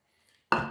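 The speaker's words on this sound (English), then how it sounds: "You always got to scrape your bowl." A spatula scrapes the inside of a mixing bowl of sweet dough with powdered sugar. After near silence, a single close, abrupt scrape starts and carries on to the end.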